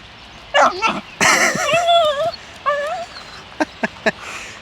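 A dog at a fishing lake whimpers and yips loudly up close in drawn-out whining cries, then gives a few short sharp yaps, with no talking over it.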